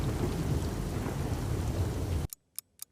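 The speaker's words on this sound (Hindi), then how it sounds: "तेज आंधी तूफान के साथ बारिश भी होने लगती है" Heavy rain roars loud and close with deep thunder rumbling through it for over two seconds, then cuts to near silence broken by a few sharp crackles.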